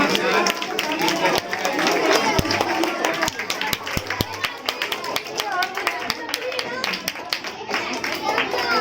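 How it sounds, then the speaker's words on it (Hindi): Crowd clapping at a school annual sports and prize distribution event, a dense patter of many hands with sharp individual claps standing out, mixed with people talking. "एक जोरदार तालियों के साथ"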